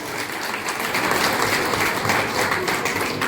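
An audience at a certificate ceremony at a law college in Parbhani gives steady, dense applause that fills the room evenly throughout, with no break and little talk.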